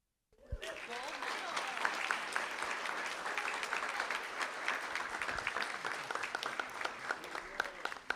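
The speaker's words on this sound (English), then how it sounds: "Let's give Emma a huge round of applause." Applause breaks out at a school board meeting after a student award, starting abruptly and settling into steady, moderately distant clapping from a seated audience, with murmured voices underneath.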